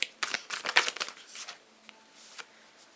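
Moon oracle cards shuffled by hand in a quick run of close, crisp riffling flicks that fade into a few softer card taps, with no talking.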